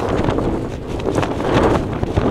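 Gale-force wind buffets a campsite in the Peak District, a loud, constant roaring rush with gusty swells and flapping, close to the microphone throughout.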